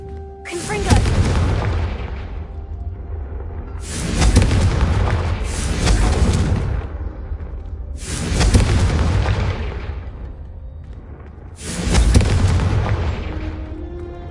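Confringo spell explosions from the game Hogwarts Legacy go off as four loud, booming blasts spaced a few seconds apart, each with a sharp crack and a rolling decay.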